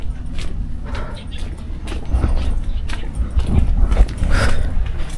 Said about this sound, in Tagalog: maraming mga aso dito